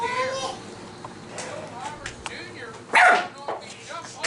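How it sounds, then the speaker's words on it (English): A dog barks in short sharp bursts indoors, with the loudest yelp near the end, while someone talks to it and coaxes it over between barks. "Who are you barking at?"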